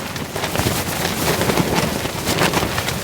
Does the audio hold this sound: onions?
no